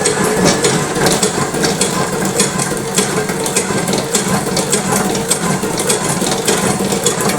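A batasa (sugar drop candy) making machine in Kolkata runs steadily and loudly, a dense mechanical clatter and whir with a faint rhythmic ticking throughout, and no voices.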